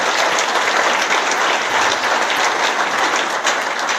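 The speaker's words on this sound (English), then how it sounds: "Give him a big round of applause, please." Loud, sustained audience applause at a post-budget political breakfast, welcoming a politician in the room; thick, steady clapping from a large crowd with no talk over it.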